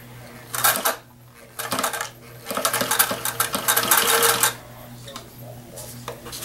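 A sewing machine stitches a stuff sack along a drawstring cord in short bursts, with clattering handling noises and pauses between runs.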